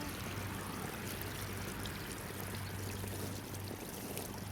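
Water splashing and pouring from a backyard water slide mat fountain, a steady continuous rush of spray, faint and even throughout.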